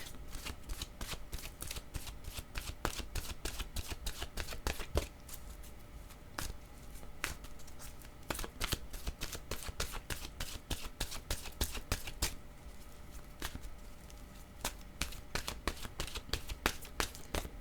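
Oracle cards being shuffled by hand, a steady run of crisp riffling and flicking snaps continuing for the whole stretch, close and fairly quiet with no talking.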